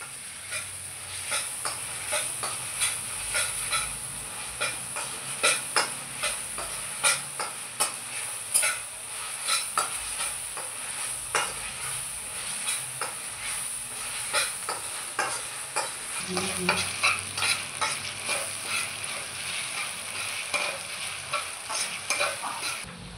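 Ginger stirred as it fries in a pan, with a steady sizzle under repeated scraping and clacking strokes of a spoon against the pan at an irregular rhythm, close and fairly loud, with no talk.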